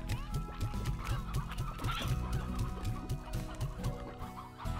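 Hens clucking in the Slime Rancher video game, a flock of soft, repeated clucks on a steady rhythm, close and continuous, with no voices.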